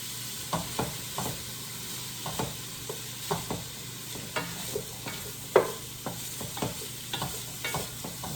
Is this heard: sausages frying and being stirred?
yes